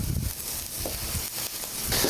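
Leek, zucchini and yellow squash searing in olive oil and broth in a hot pan, giving a steady broadband sizzle with a few soft stirring thumps throughout.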